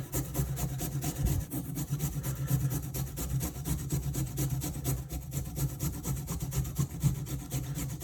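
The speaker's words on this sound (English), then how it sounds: "And then again, using the rasp" A kitchen rasp grates fresh ginger root in quick, steady back-and-forth scraping strokes, close and continuous over a low background hum, with no talking.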